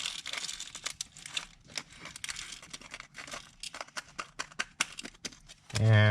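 A plastic package being cut open and handled, giving crinkling and tearing rustles in irregular bursts, close to the microphone, with a louder rumbling thump near the end.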